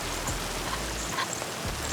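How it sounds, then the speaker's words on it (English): Heavy rain pours steadily outdoors on a deep-water fishing trip, a dense, constant hiss of drops striking surfaces close by, with no voices. "pouring rain"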